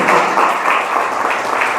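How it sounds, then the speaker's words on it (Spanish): A church congregation applauds during a sermon, a dense, steady wash of clapping hands that fills the room for the whole stretch without a break. "Denle un aplauso."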